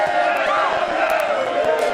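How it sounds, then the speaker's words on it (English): A boxing-match crowd fills a large arena with a continuous roar of voices rising toward a chant, loud and dense throughout, with scattered shouts on top. "you start hearing the chants in the crowd"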